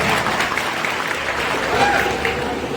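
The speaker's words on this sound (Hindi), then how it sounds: "एक बार ताली बजाइए" Audience applause at a traditional World Tribal Day celebration in Harda district, a steady wash of clapping from a gathered crowd lasting about three seconds, with voices mixed in.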